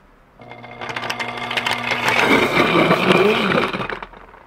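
A vegan plant milk maker machine starts up with a steady hum, then grinds into a loud, churning whir that rises and holds before cutting off.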